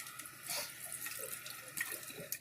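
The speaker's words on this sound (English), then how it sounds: "just rinsing my palms off." Water runs steadily from a bathroom tap while palms are rinsed during a night skincare routine, a close continuous splashing hiss with small surges and no talking.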